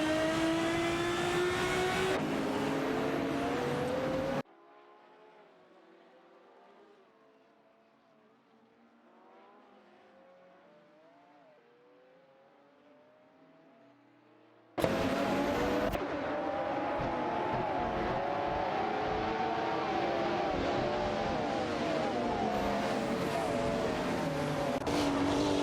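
Race cars roar through an AI racing video game, engines revving loudly before a quieter stretch and then surging back at full volume with overlapping engine tones.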